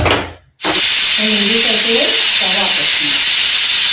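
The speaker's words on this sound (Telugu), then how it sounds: "ఇందులో 1 గ్లాస్ నీళ్ళు పోసి ఒక 2 విజిల్స్ వస్తే సరిపోతుంది" A pressure cooker on a stove, cooking a brinjal and broad bean curry with a glass of water, lets out a loud continuous steam whistle and hiss after a brief pause at the start.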